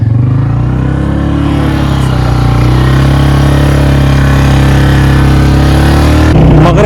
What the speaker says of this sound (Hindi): यहाँ से हम मोटरसाइकिल पे जाएंगे, आगे का सफ़र हमारा मोटरसाइकिल पर है।